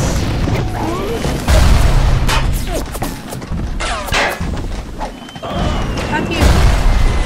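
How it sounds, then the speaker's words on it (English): Grenade explosions in the video game BioShock burst as loud, booming blasts with crashing thuds, repeated several times over a dense, noisy game soundscape. "I fucking knew you had some grenades."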